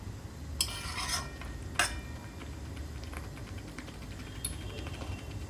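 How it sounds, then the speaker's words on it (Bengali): Meat and potatoes for a curry are sautéed in a pan over a soft, low sizzle, with a few sharp scrapes and clinks of a metal spoon against the pan, heard up close and quiet with no voices. "আমি কষিয়ে নিচ্ছি"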